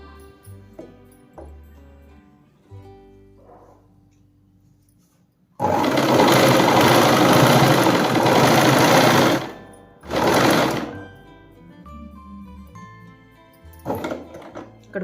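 An electric sewing machine stitches the side cuts of a Punjabi suit in loud close bursts, a long run of fast whirring followed by two shorter runs, with quiet gaps of cloth handling between them.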